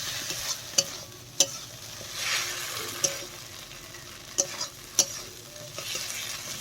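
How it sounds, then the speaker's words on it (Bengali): Soft scraping and tapping of a spoon stirring taro leaf ghonto with rohu fish head in a pan, over a faint low sizzle, with several sharp clicks at irregular intervals and no talk. "আর এটা দেওয়ার পর আমি একটু ভালোভাবে নেড়ে নিচ্ছি।"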